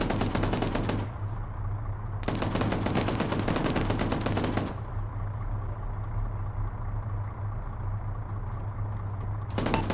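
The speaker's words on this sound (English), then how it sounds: "Is that you guys shooting shit with the 50?" Heavy .50 cal machine gun firing in ARMA 3, two long sustained bursts of rapid, loud shots over a constant low engine-like rumble, with a third burst starting at the very end.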